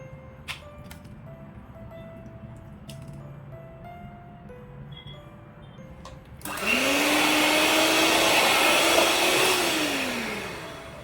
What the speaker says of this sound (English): Now I will add butter to a wide vessel and beat it for 2 to 3 minutes.